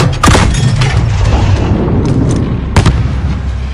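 Explosions and gunfire in a Call of Duty Modern Warfare campaign mission: a sharp blast opens into a deep rolling rumble, and a second crack lands near the end.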